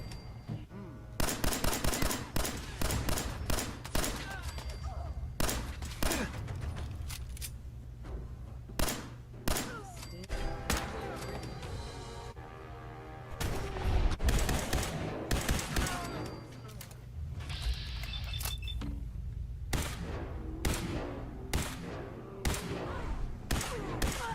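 Dense gunfire from a Fallout 4 firefight between a Courser and a large group of gunners: rapid automatic bursts and repeated sharp shots that keep overlapping, loud and close, for the whole stretch.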